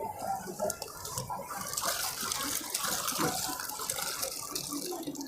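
Water splashes and gushes continuously from a handmade hand pump drawing from a well, a close, steady pour with bright spattering.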